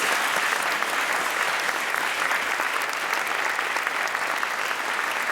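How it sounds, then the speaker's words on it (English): Audience at a university panel event gives sustained applause, a dense, steady roar of many hands clapping from start to finish, with faint voices underneath. "Give them a round of applause."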